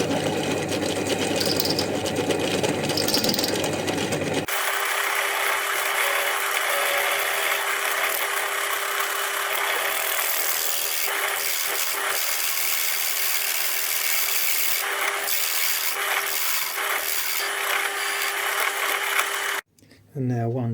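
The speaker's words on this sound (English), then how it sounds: "I'm just stepping up to a bigger size drill." A drill bores a hole through a spur gear and its shaft during a pressure washer repair, giving a continuous high, buzzing mechanical whine that starts abruptly after a rougher opening and runs steadily until a brief cut near the end.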